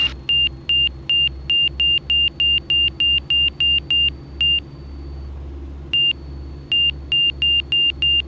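Garmin G3X angle-of-attack aural warning in a small aircraft: a steady series of short electronic beeps repeats rapidly, pauses briefly, then starts again over the constant drone of the engine in the cabin.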